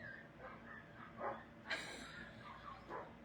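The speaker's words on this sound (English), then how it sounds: "Now they're barking outside." Dogs bark outside in a few quick, faint yips and woofs, spaced irregularly and heard from a distance.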